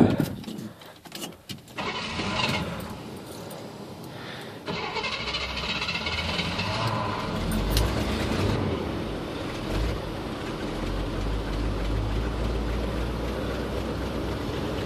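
A chainsaw for cutting firewood sputters through a rough start, then settles into a steady, loud idling drone that holds as the engine warms up outdoors.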